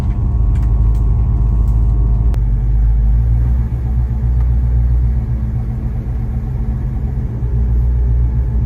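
A 1972 Ford Mustang Mach 1 engine on the road, a steady loud low rumble throughout with a brief sharp transient early on, no talking.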